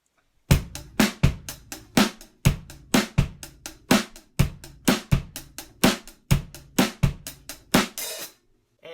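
Drum kit groove on snare, hi-hats and kick, a steady rhythm of sharp, loud hits repeating evenly for several bars, played alone.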